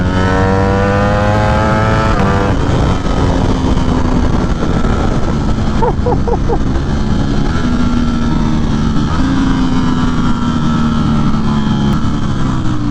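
A Ducati Streetfighter V4 engine revs hard while riding, pitch climbing and dropping through gear changes, loud and close with constant wind and road noise.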